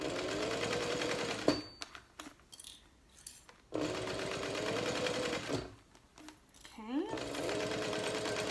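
A sewing machine stitches down the edges of a small structured wallet in steady runs, pausing twice for short stretches with rustling and handling noises, and a voice speaks during the gaps.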